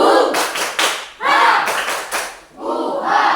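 Class of schoolchildren performs the tepuk rimba clapping routine, several bursts of group claps and taps in a rhythmic pattern with short pauses between, close and fairly loud, with children's voices chanting along.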